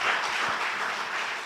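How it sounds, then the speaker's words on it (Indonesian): Brief applause from a church congregation during an online worship service, a steady burst of clapping heard at moderate volume. "Beri tepuk tangan dulu buat Tuhan Yesus Kristus."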